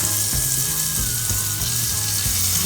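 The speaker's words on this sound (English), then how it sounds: "So we're going to fry it. Put a bit of butter in the pan" A banana oatmeal pancake frying in butter in a pan, giving a continuous close sizzle with a few soft knocks or dabs, and no one talking.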